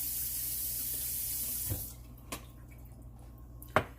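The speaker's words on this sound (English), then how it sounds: "let's put a little bit more water on that bread, a little bit more loose." Water poured onto bread for a soup or stew, a steady hissing pour for nearly two seconds that stops, followed by a couple of soft drips or taps.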